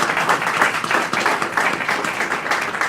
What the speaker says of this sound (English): I hope that you will join me in giving them a quick round of applause